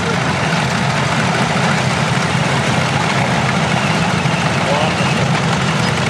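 A vintage American Minneapolis Moline tractor idles at a parade, a loud, steady low engine rumble running throughout while people talk over it.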